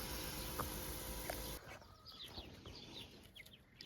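Chickens cluck softly on a farm where a goose leads the flock, with a loud hiss of spraying water filling the first half before giving way to scattered, fairly close bird calls.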